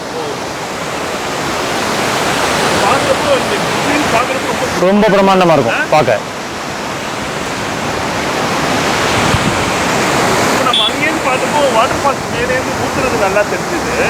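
A waterfall in Munnar, Kerala, gives off a loud, continuous rush of falling water close by, while people talk over the steady roar.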